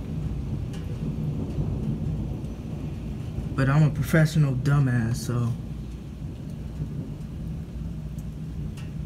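A severe thunderstorm over southeast Michigan rumbles on with steady rain hissing throughout, low thunder running beneath, while someone speaks briefly over the storm.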